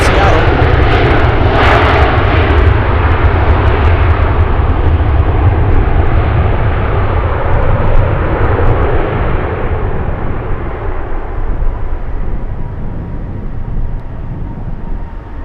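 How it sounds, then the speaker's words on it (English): An Alaska Airlines passenger jet arriving from Seattle into Anchorage gives a loud, sustained broadband engine roar that slowly fades over the stretch, with speech heard over it. "We have Alaska 659 flying in from Anchorage."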